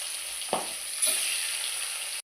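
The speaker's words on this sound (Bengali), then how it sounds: "সর্ষের তেল গরম করে মাছে নুন হলুদ মাখিয়ে মাছটা ভেজে নেব এটা এক্ষুনি এত ফাটবে" Rita fish, rubbed with salt and turmeric, frying in hot mustard oil, making a soft continuous sizzle with a couple of sharp crackling spits before it cuts off abruptly.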